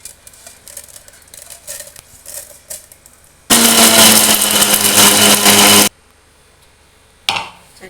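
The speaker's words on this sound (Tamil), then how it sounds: "கடுகு உளுத்தம்பருப்பை இப்போ நுணுக்கி எடுத்துக்கலாம்." A kitchen mixer grinds tamarind chutney with mustard seeds and urad dal in one loud, steady whirring burst of a couple of seconds, set between quieter handling clatter, with a short second burst starting at the end.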